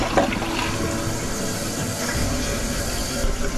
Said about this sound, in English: here goes our first flush